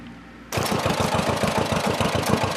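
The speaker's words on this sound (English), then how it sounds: "fired up the John Deere MC" A John Deere MC crawler starts up while covering a trench drain; the engine catches abruptly and settles into a loud, close, steady thumping idle with an even rhythmic pulse.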